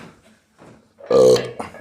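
A man gives one loud, rasping burp near the middle, with quiet breathy sounds before and after it.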